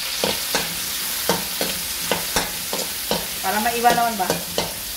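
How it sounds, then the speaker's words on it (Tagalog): Sardines with garlic, onion and tomato are sautéed in a pan, with regular spatula scrapes and clacks over a faint sizzle, close and fairly quiet, and a voice speaking briefly near the end. "Gisa muna natin ang sibuyas, kamatis, at saka bawang ang ating sardinas."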